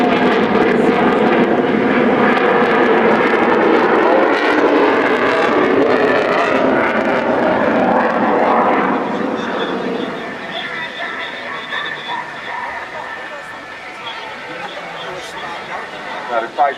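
An RAF Typhoon fighter jet at an airshow rolls overhead, a loud broadband roar that fades after about ten seconds into a thinner distant hiss, with commentary and crowd chatter running over it.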